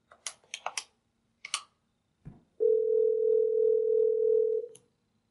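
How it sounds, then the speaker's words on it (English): A GRP 2614 desk phone dials an extension: a quick run of key presses and a click, then a steady ringback-style tone that holds for about two seconds, clear and alone. "I'm just going to dial up my direct extension."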